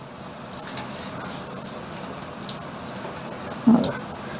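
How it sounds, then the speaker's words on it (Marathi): Tap water runs steadily into a kitchen sink while a vegetable is rinsed, a soft continuous hiss with a brief louder splash near the end; no one speaks. "पाणी बघा किती काळं येतं अजून. असं 4-5 वेळा आपण धुवून घ्यायचं."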